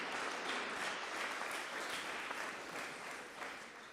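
An audience at an award ceremony for a video contest claps steadily, a dense, even wash of applause from a crowd throughout the short span, no speech over it.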